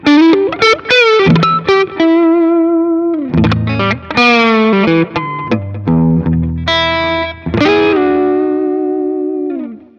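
Electric guitar runs through a TC Electronic Dark Matter distortion pedal on the neck pickup with a touch of added treble, playing an expressive lead line of bends, sustained notes and quick runs, loud and up close with a slight chorus-like shimmer.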